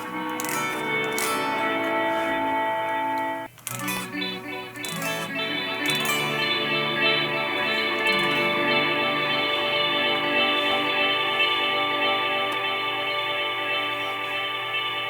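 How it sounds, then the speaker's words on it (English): Bass guitar played through the Safari Pedals Fox Echo Chorus plugin sustains shimmering, chorused notes with a short break near the start, then a steady, loud, wavering wash of repeated tones. "I really love the way that bass sounds with a chorus on it."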